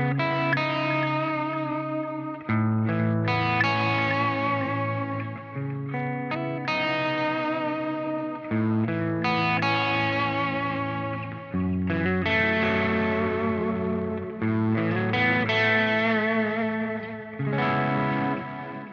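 Electric guitar through an Eventide H90 modulated delay, playing repeated sustained chords and notes with wavering chorus-like shimmer and echo tails, phrases every few seconds, no talking.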